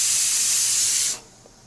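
A strong, close hiss of steam rushes from a pot of cooked rice as it is lifted off the heat, then cuts off sharply after about a second.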